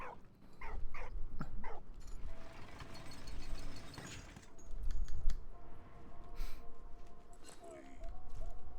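Rescue dog in the WWI game Valiant Hearts: The Great War, giving a few short yips and barks amid game music and clicking sounds, moderately loud with no speech.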